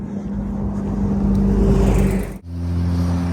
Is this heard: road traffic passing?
yes